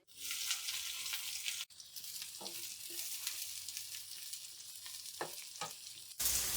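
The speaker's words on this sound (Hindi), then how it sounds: "अब हम उसी ऑयल के अंदर प्याज को फ्राई कर लेंगे।" Sliced onions frying in oil left over from an earlier batch, for a Yemeni chicken pulao: a soft, steady sizzle with a few light scrapes and taps, close but quiet, with abrupt cuts partway through and near the end.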